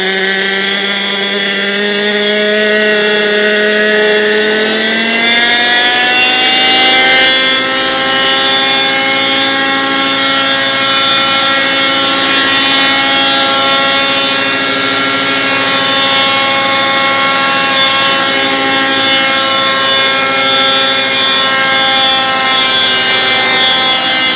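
A Raptor 30 gas engine on a model aircraft runs steadily and loudly up close, its buzzing drone rising in pitch as it revs up in the first seconds, then holding a high, even whine.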